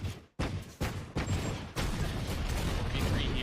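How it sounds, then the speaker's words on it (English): Rapid bursts of video game gunfire crackle and echo loudly during a Valorant match, several sharp volleys followed by continuous shooting, with faint talk underneath. "As you hear just gunfire erupt across the site."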